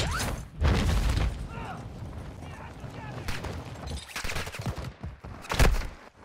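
Gunfire rings out in a shooter video game with a contract system and buy stations, broken bursts and sharp impacts scattered across a few seconds, partly under a voice talking.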